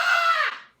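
A woman lets out one short, shrill scream, loud and close, lasting under a second and then cutting off abruptly.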